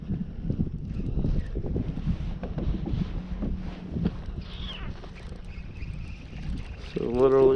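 Outdoor wind buffeting a microphone on an overcast day while fishing from a boat, a steady low rumbling roar throughout with some faint background sounds, growing louder near the end.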